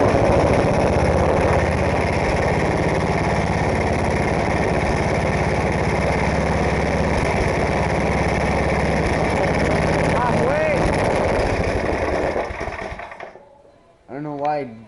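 A small snowblower engine, started on choke after priming, fires up and runs steadily at high speed, a loud continuous buzzing drone that sputters and dies near the end.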